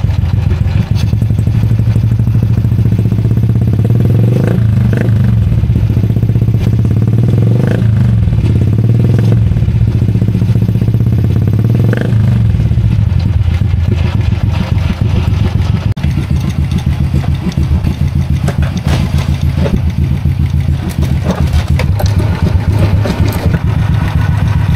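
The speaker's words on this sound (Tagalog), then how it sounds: "Ito nga pala ang tunog ng KT5, yung dating KT5" A 15-year-old Honda Wave 100R motorcycle engine runs with a steady, loud idling putter and mechanical clatter, with slight revving changes near the middle, heard close and continuously.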